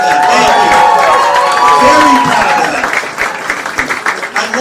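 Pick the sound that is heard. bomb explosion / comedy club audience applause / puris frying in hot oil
comedy club audience applause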